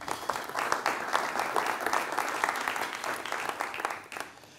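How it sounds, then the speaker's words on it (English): A panel discussion audience applauds steadily, a dense wash of clapping that holds for several seconds before tapering off at the end. "Would you please give my guests a big round of applause?"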